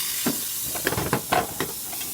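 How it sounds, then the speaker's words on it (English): A La Pavoni espresso machine's steam wand hisses steadily and close, with gurgling bursts and spitting pops breaking through the continuous rush of steam. "Now for the steamer."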